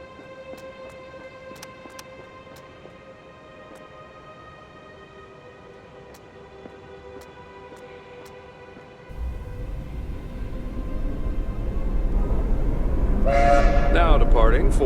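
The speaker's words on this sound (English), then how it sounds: "I have to get it back before that train leaves." A train in the indie adventure game Empathy: Path of Whispers rumbles with steady whistle tones at first, then a louder rush of departing engine noise builds over the last few seconds, with a brighter whistle blast near the end.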